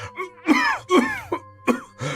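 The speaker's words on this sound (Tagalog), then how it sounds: "bakit parang ang tindi po ng ubo niyo?" Several harsh, throaty coughs and throat-clearing bursts in quick succession, close and fairly loud, with short pauses between them.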